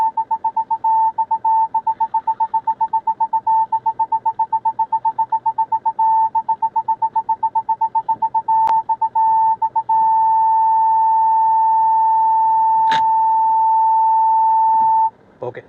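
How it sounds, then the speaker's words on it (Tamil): A Tata Nexon's reverse parking sensor beeps in rapid, even pulses that merge into one continuous steady tone, loud and close, with a couple of faint clicks and no voices. "ஓகே, ஸோ இப்போ பார்த்தீங்கன்னா கண்டினியூஸாக பீப் சவுண்ட் வந்துக்கிட்டே இருந்துச்சு"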